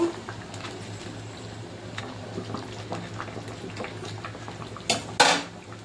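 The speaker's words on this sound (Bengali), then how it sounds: "ভেজে রাখা মাছগুলো এবার দিয়ে দেবো" Fried boal fish pieces go into a bubbling mustard-oil gravy in a pan, soft simmering and scattered utensil clinks building to a couple of louder metallic clanks near the end.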